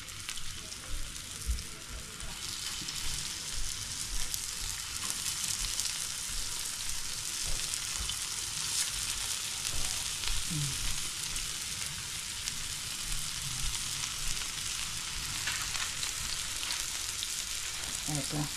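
Chicken cheese kebabs fry in hot oil with a steady, dense sizzle that runs close and unbroken from start to finish, with a few faint clinks and stirring knocks.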